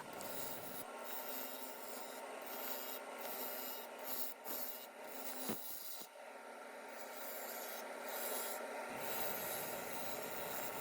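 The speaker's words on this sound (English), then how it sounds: "Doing some pull cuts here, and stopping the lathe every so often to check the progress." Woodturning tool making pull cuts into a large maple platter spinning on a lathe, a steady broadband scraping rasp with a low motor hum that drops away briefly near the end as the lathe stops.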